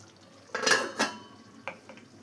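A metal lid is set onto a pot of ivy gourd curry simmering over a medium flame, giving two or three close clinks and clatters, then a fainter knock, with no talking.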